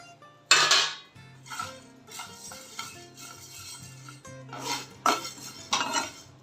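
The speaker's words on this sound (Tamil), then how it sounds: "தனியாவை வறுத்தெடுத்துக்கலாம்." Coriander seeds dry roasting in a metal pan while being stirred, giving repeated scraping and clinking of a spoon against the pan in uneven bursts, close and moderately loud, with no talking.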